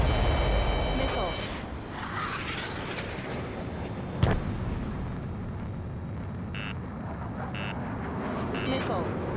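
A missile launches with a sharp burst and a roaring whoosh in the flight combat game Ace Combat 7, set against steady jet engine noise, with electronic warning tones beeping near the end.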